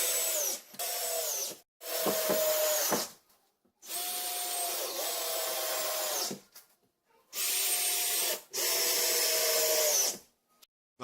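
Power drill driving deck screws into a wooden shower curb frame, several whirring bursts of a few seconds each separated by short pauses, close and fairly loud with no talking.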